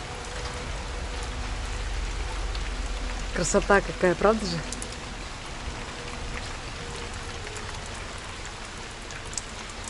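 Heavy rain falls in a steady, dense hiss after a downpour with wind and thunder. The sound continues evenly throughout, and a person speaks briefly partway through over the rain.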